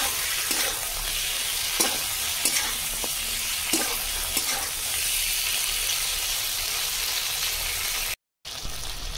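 Ginger paste frying in a pan for a Bengali fish curry, a steady broad sizzle with occasional utensil taps, continuous and close before a brief cut near the end.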